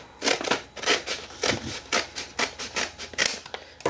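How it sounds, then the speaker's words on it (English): Scissors snipping across the top of a paper bag, a quick steady series of crisp close cuts and rustles, about two per second, with no talk. "But you want to cut the top of this bag off."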